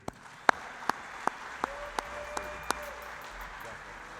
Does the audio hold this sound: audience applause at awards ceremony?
yes